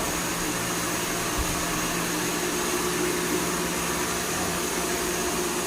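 A cleaned vertical pump at a water refilling station runs with a steady, even mechanical hum and hiss, constant in level, with no voices over it.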